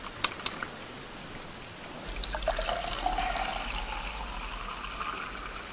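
Water runs in a survival video game, a steady splashing rush like a tap or fountain that swells in after a couple of seconds and carries on evenly at moderate level.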